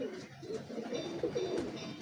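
French big breeder high flyer pigeons coo softly and steadily, a low murmuring burble repeating throughout with no break, close by.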